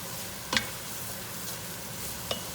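Vegetables sweat over gentle heat in a pan for a rabbit ragu, giving a soft, steady sizzle close by, with two brief spoon clinks as they are stirred.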